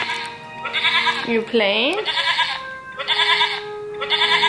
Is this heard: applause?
no